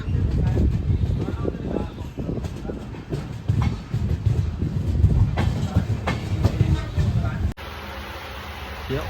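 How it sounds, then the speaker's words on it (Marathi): The Okha train rumbles and clatters steadily along the tracks as it departs, loud and close, with faint voices underneath before the sound drops abruptly near the end. "सुटली सुटली सुटली ट्रेन आपली सुटलेली"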